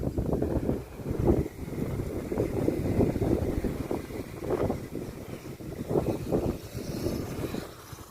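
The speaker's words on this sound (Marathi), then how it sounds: "हा वारा सुटला" Wind from a storm outside a hotel buffets the microphone in a continuous low rumble, gusting stronger and weaker with no talking.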